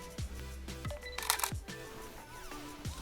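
A camera shutter fires several times in a row during a basic photography demonstration, each click crisp and close with a short mechanical snap, at a steady pace.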